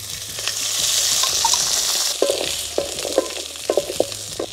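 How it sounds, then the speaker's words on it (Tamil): Tomato, garlic and ginger frying in a pan sizzle loudly and close, with a steady hiss that gives way to sharp, irregular clatters of stirring in the second half. "தக்காளி வதக்கலாங்கண்ணே. பூண்டு அது கூட வதக்கலாம். இஞ்சி அது கூட போட்டு வதக்கலாங்கண்ணே"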